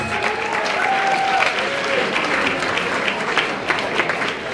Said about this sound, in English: a big round of applause for both these men after three hard fought rounds.